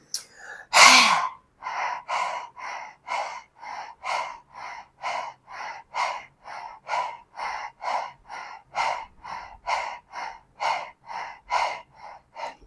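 Rapid rhythmic panting breaths during a yoga breathing exercise, imitating a dog's pant with tongue out, about twenty evenly spaced huffs after an opening sharp gasp, close and steady.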